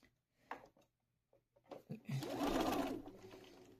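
A sewing machine stitches a Quiltworx Coral Cove quilt: a few sparse clicks and soft handling sounds lead into a loud, close, steady whirring run of stitching.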